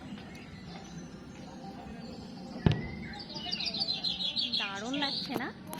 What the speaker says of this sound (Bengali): এই হাঁড়িগুলোর মধ্যে পাখি আছে, কত সুন্দর আওয়াজ পাখি, তোমরা শোনো